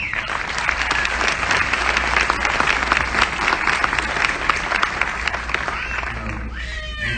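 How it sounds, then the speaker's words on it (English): A crowd at a funeral service gives a sustained round of applause, dense steady clapping with voices mixed in that fades near the end. "Round of applause for the Simmons family."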